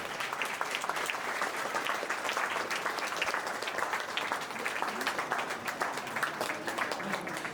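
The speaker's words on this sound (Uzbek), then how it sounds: "Qarsakiylar." Applause fills an award ceremony hall at a mathematics olympiad as teachers are honoured, dense steady clapping from a large audience, loud and sustained throughout with no talk over it.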